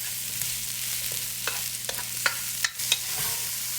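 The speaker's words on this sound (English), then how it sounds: "Now add the mushrooms and stir fry for about 3 minutes." Garlic and mushrooms stir-fried in olive oil in a pot give a steady close sizzle, with a few soft scraping knocks from the stirring utensil and no voices.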